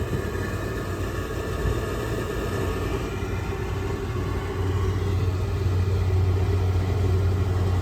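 A rooftop HVAC unit's blower runs in a steady, loud broadband rumble and whoosh with a low hum that grows slightly stronger near the end, with no talking.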